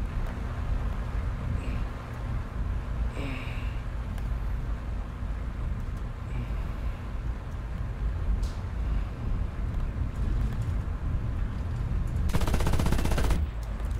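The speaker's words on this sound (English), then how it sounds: "The machine guns hit like cannons." Aircraft machine guns firing in War Thunder, a Heinkel nearby, over a constant loud engine drone: scattered short bursts, then a dense, loud sustained burst near the end.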